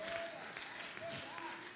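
A church congregation claps on Palm Sunday, a steady wash of hands filling the room with a few sustained sung or spoken tones drifting over it.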